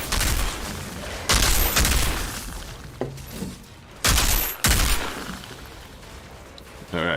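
Shooting at a flying bird enemy in the game Outriders, with loud separate bursts of gunfire and some shorter cracks between them over quieter in-game sound, and a voice talking now and then.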